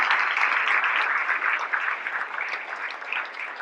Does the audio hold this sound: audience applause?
yes